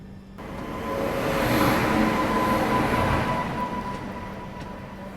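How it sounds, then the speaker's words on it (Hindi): A train passes on an adjacent track at the Tundla outer during a rail journey, a steady broad rumble and rattle of wheels swelling and holding throughout, fairly close and loud with no talk. "अभी एक और क्रॉस होने जा रही है हमें टुंडला आउटर पे, देखते हैं ये कौन सी है।"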